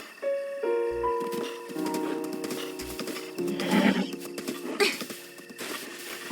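Horse neighs and whinnies in a video game, with clip-clopping hooves and game music; several loud whinnies with falling pitch ring out over steady background tones, and no one speaks.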